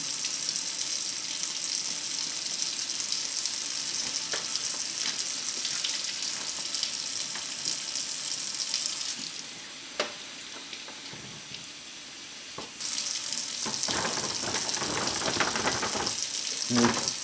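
Beer flowing into the bladder of a Krups Sub Compact torp, a steady close hiss of pouring liquid that stops briefly, then resumes with faint clunks and rustling, with no talk.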